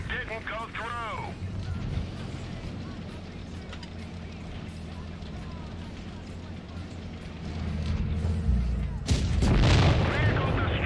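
Tank cannons fire in the mobile game World of Tanks Blitz: deep booming shots and rumbling engine noise fill the mix, with a sharp blast and heavier roar swelling toward the end.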